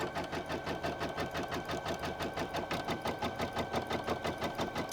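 An embroidery sewing machine stitches a fabric patch for crazy quilting, its needle hammering in a fast, even rhythm of mechanical beats; close, steady and unaccompanied by speech.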